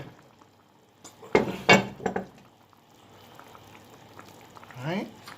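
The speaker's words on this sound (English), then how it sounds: "we're gonna add some chopped carrot with Irish to the pot now" Chopped carrot and potato tipped into a pot of brown stew pork, a few quick splashy thuds close by in otherwise quiet surroundings, followed later by a brief voice.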